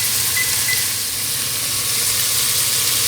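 Vegetables frying in olive oil over a medium-low element, a loud, continuous sizzling hiss filling the whole stretch without talk.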